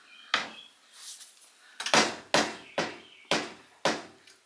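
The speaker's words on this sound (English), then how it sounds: "Door's not aligned, so you have to pick it up and then drop it in." An Electrolux dryer door with a misaligned latch is lifted and dropped shut again and again, giving about six sharp, close knocks and thuds spaced roughly half a second apart, with no talking.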